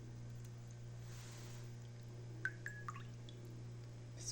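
Excess water drips in a few faint, quick drops off breaded pastry dough in a quiet kitchen over a steady low hum, with no talking.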